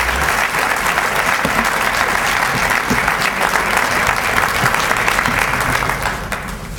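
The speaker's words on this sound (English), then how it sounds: "Let's give her another round of applause." An audience at an MLK keynote event applauds the keynote speaker in a full, steady round of clapping that holds strong throughout and tapers slightly at the end.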